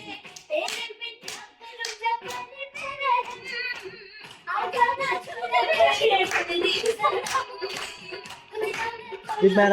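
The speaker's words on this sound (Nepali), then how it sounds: "यिनीहरू चाहिँ बस्ने ताली बजाउने" People clapping their hands together in rhythm at a lively party, steady claps alongside singing and children's voices, the crowd getting louder and fuller in the second half.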